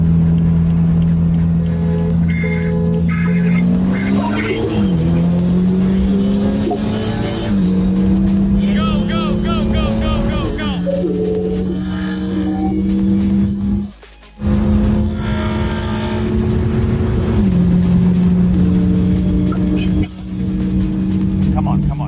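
A stage 3 tuned BMW F30 328 with a 400 hp N20 engine races a BMW M3 and M4, heard from inside as a loud engine repeatedly winds up through the gears, pausing briefly at each shift, with a short lift near the middle.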